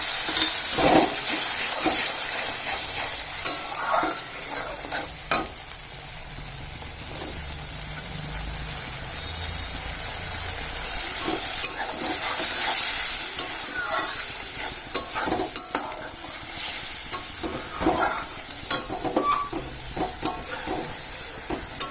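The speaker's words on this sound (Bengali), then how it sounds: "আরো 2 মিনিট কষাবো।" Spice masala of ground cashew, almond and poppy seed paste stir-fried in a pan for soybean curry, a continuous dense sizzle broken by repeated scraping stirs and spoon knocks, close and fairly loud.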